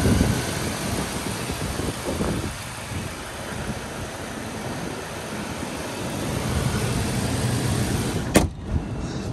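The engine of a 1997 Lincoln Town Car Cartier idles with a smooth, low, steady hum heard up close, ending with a sharp thump near the end.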